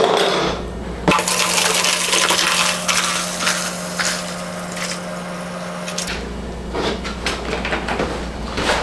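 Vinegar pours into a container in a shop, a steady liquid rush with a low hum running through most of the clip, then it cuts off and shifts to quieter handling clatter near the end.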